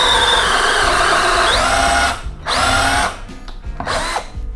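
A Metabo PowerMax 12V cordless screwdriver whines loudly at high speed in a long steady run, then stops and restarts in two shorter bursts.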